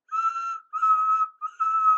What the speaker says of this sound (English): Whistled all the engines.